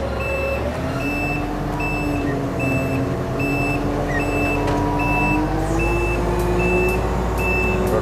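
A large diesel forklift reversing, its evenly spaced high backup beeps repeating over a steady low engine rumble, close and loud throughout, with no talking.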